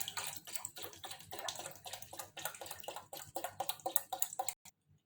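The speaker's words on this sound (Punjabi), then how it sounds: "ਹੁਣ ਆਪਾਂ ਇਹਦੇ ਵਿੱਚ ਠੰਡਾ ਪਾਣੀ ਪਾ ਦਵਾਂਗੇ" Cold water poured into a pot of lemon mint drink, a continuous close splashing gush with uneven bubbling pulses that stops abruptly, leaving silence; no talking.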